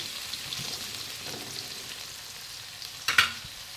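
Garlic fries in hot oil, browning with a steady soft sizzle and crackle, close and fairly quiet, with a brief clatter of a utensil near the end.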